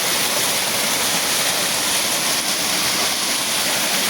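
A steady, loud roar of a waterfall in an Azad Kashmir valley fills the scene, constant and close, with no voices over it.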